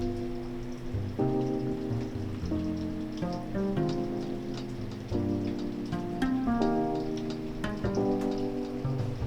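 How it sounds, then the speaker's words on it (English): Rain patters steadily in the background while soft, sustained musical tones play over it, no voices. "It's raining outside"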